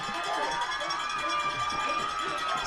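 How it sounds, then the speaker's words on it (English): Basketball fans at a high school game in a gym roar in a dense, sustained crowd cheer, loud and continuous throughout, with voices blended into the noise. "The fans are going wild."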